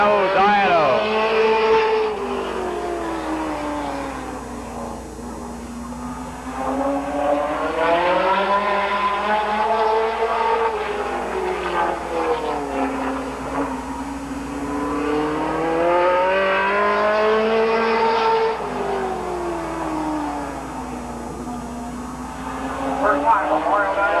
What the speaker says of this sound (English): The number 46 car of Mario Diano